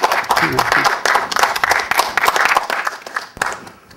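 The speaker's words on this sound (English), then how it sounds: "Let's give him a round of applause." Audience applause for a speaker after a patient safety talk, a dense burst of many hands clapping that stays strong and then fades toward the end.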